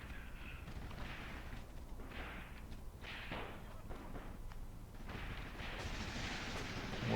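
Distant anti-tank gun fire and battle noise in the Graviteam Tactics war game, with muffled booms and sharp cracks rolling over a steady low rumble at a moderate level.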